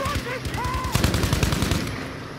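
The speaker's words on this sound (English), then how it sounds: "Someone's shooting." Rapid machine-gun fire in the video game Battlefield V, a steady rattling burst of shots over continuous game background noise, with a few brief voice-like tones early on.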